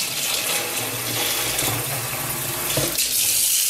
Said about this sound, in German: Und bis dahin müsst ihr dann jetzt hier Wasser reinmachen.